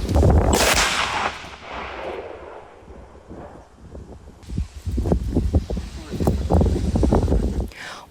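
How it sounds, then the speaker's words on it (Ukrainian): A loud explosive boom from a controlled detonation of unexploded ordnance bursts out at the start and rumbles away, followed by scattered crackling and rustling noise. "піротехніки ухвалили рішення провести контрольований підрив на місці"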